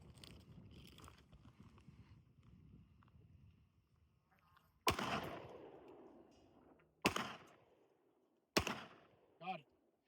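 Three sharp gunshots from a Glock 29 pistol fitted with a 6-inch conversion barrel, aimed at a bowling pin outdoors, crack out in a slow irregular sequence, each with a trailing echo, over wind rumble, followed by a brief metallic ring.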